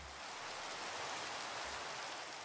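Steady, soft rain in a Minecraft modpack (ATM8), an even hiss of falling water with no other sounds.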